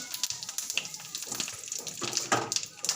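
Cumin seeds and bay leaves tempering in hot oil in a pan, after potatoes have been fried, produce irregular crackling bursts and splutters up close, rising and falling in quick uneven pops.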